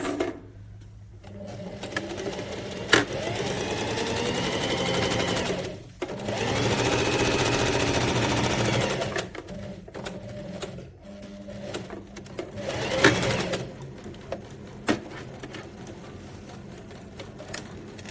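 A sewing machine stitches an in-seam side pocket between two notches in long steady runs, close and loud, with brief pauses and a few clicks and handling knocks in between.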